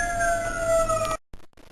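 A police siren wails steadily and loudly, then cuts off abruptly about a second in, leaving near silence with a few faint clicks.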